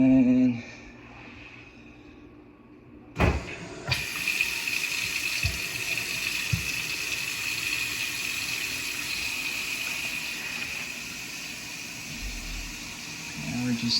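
A gooseneck faucet on a newly installed kitchen sink runs after the water is turned back on, a steady close hiss of flowing water beginning suddenly and continuing, with people talking faintly at times.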